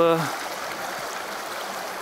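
Water of a forest stream about ten metres wide flows under ice near a wooden bridge, a steady soft rushing that continues after a brief voice at the start.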